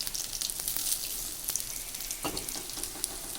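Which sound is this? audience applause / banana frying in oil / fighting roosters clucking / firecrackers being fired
banana frying in oil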